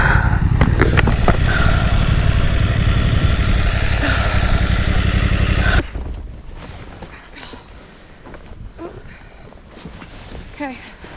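A motorcycle engine rumbles loud and close for the first half, mixed with wind buffeting, then drops away to a quieter background where a voice is heard.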